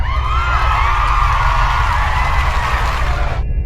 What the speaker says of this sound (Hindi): ये सुनकर सारे बस के ज़ॉम्बी खुशी से चीखने चिल्लाने लगते हैं।